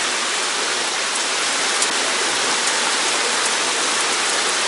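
A heavy rainstorm in the video game Granblue Fantasy pours as a dense, steady hiss of rain, loud and unbroken, with no voices.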